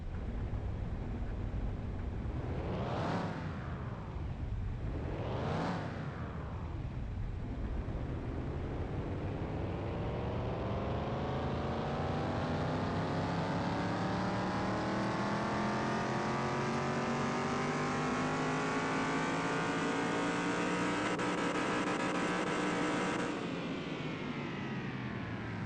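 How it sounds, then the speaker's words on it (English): A Ford F-100 truck engine on a dyno in Car Mechanic Simulator 2021 revs twice in sharp bursts, then climbs in one long, loud, steady pull to high revs before easing off; no talking. "I want to dyno test the truck, see what it makes"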